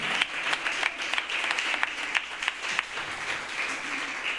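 A church congregation applauds and cheers the Lord during a French-language worship conference, steady clapping from a crowd in a hall with sharp hand claps standing out and a few faint voices underneath.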